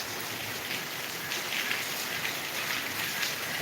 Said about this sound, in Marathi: बघा हे कंटिन्यू पाऊस पडत आहे